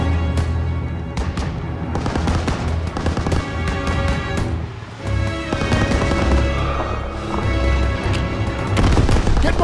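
Dense World War II battlefield gunfire in Call of Duty: WWII, rapid rifle and machine-gun bursts with booming impacts, loud and continuous for the whole stretch with only a brief lull midway.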